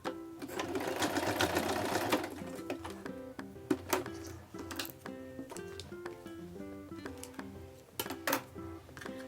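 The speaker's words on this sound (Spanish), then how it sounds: "Entonces termino de coser." A sewing machine stitches fabric for Santa Claus slippers, a close, steady mechanical whir in a continuous run, then slowing into separate clicks and short bursts of stitching.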